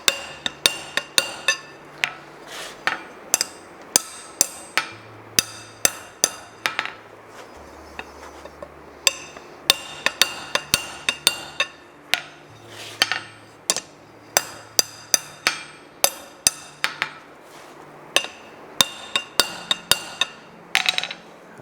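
Blacksmith's hammer striking hot metal on an anvil during a forging lesson, sharp ringing blows in quick irregular runs throughout, close and clear, no talking.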